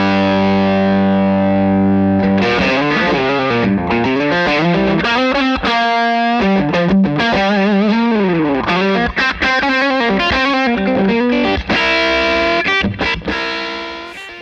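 A Victory V140 Super Duchess tube guitar amplifier driven loud sends out sustained distorted chords and fast lead runs, dense and close, with no speech.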